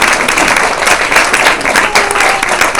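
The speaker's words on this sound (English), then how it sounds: "If everybody could give Poppy a big round of applause." An audience at a women's event claps in a sustained round of applause, a dense, loud wash of many hands that stays even throughout.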